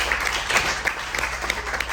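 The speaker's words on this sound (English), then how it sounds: "Clap it up for that" Scattered applause during an interview, with individual claps popping out irregularly over a busy background wash rather than a dense crowd roar.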